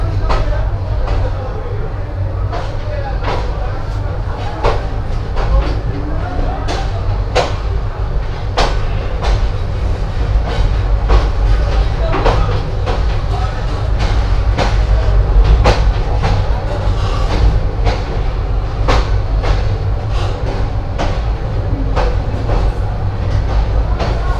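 The Upaban Express passenger train rumbles steadily along the tracks at night after leaving Kulaura Junction, loud and close, with rhythmic clacking of wheels over rail joints throughout.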